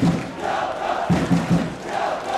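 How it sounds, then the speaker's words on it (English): Stadium crowd at a college football game in the Missouri Valley Conference cheering in thanks for coach King Cole with one quarter left, a broad roar from the stands swelling in waves, loud and continuous. "a cheer has begun thanking King Cole"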